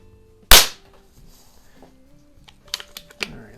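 A Marksman 2004 air pistol fires once with a sharp, loud crack, followed by quieter mechanical clicks and handling noises.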